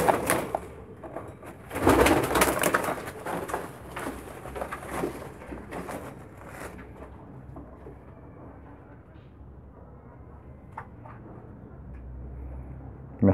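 Young squab meat pigeons in Damietta coo in soft repeated bursts, strongest early on and then quieter and sparser against a calm background.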